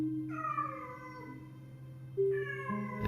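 Two distressed cats yowl behind a closed door after their owner leaves, long drawn-out meows rising and falling, one after another, fairly close and loud, with a brief knock or bump at the very end.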